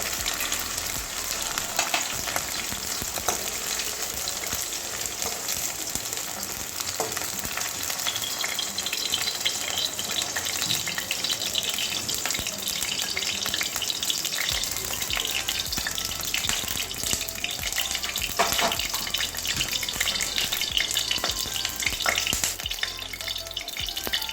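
Potatoes fry in plenty of oil for okra poppy-seed curry, giving a loud, steady, dense crackling sizzle that continues unbroken throughout.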